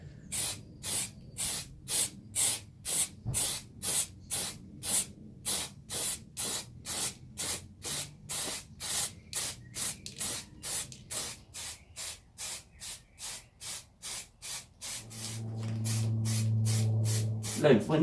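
Rapid, evenly spaced short bursts from an aerosol paint can hiss repeat many times onto exterior plastic parts, close and crisp, ending with a longer continuous spray and some speech.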